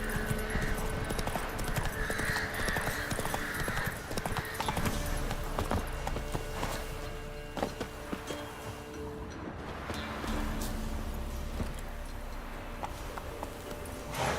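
Roach, a horse in The Witcher video game, gallops with a steady, rapid clip-clop of hooves at moderate distance over a constant ambient bed, with no talk.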